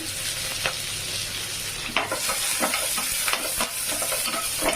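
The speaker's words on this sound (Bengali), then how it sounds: "এবার আমি শুকনো লঙ্কা ফোড়ন দেব রসুন ফোড়ন দেবো সামান্য পেঁয়াজ ফোড়ন দেবো" Dried chillies, garlic and onion dropped into hot oil as a tempering for tomato dal, giving a steady close sizzle with sharp crackles and stirring scrapes, no talking.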